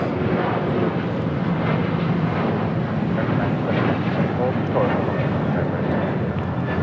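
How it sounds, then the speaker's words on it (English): A United Airlines Boeing 737-800 takes off at LAX, bound for Washington Dulles, with a loud, sustained jet engine roar across the whole stretch while a voice talks over it. "This is United Airlines 1164 taking off to Washington Dulles on a 737-800."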